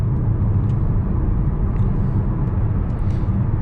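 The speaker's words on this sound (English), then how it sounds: "Nah, that CVT makes a lot of noise." A 2022 Honda HR-V with a CVT is driven on a test circuit. Its drivetrain gives a loud, steady low rumble and drone that continues without a break, with no one talking.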